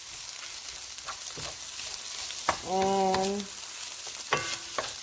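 Rice for nasi goreng is stir-fried in a pan with a soft continuous sizzle and scraping stir strokes, close by, while a voice briefly speaks over it and a short tonal beep sounds in the middle.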